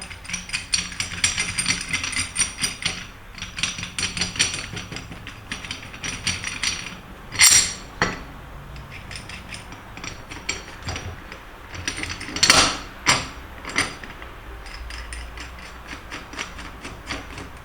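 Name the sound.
fitting and tightening a bearing separator on a motorcycle axle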